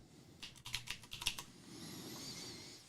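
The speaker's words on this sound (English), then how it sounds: "Let me type it." Typing on a computer keyboard: a short, close flurry of about a dozen rapid key taps lasting roughly a second, then quiet with faint background hiss.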